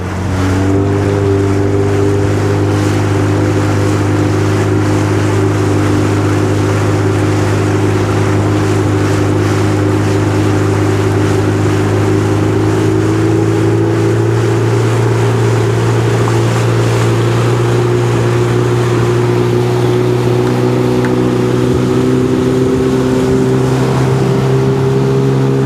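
A 2002 Sea-Doo GTX DI personal watercraft engine runs rough with a misfire on a lake, a steady droning idle with uneven, loping pulses that holds throughout with no talking.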